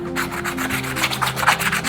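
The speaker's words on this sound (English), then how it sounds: "Sandpaper it round, make the surface rough, so it will be okay for gum." Sandpaper rubs over a shoe sole to roughen the surface, a close, continuous scratchy scraping in short back-and-forth strokes.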